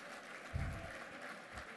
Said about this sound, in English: How about a round of applause for the Ambassador,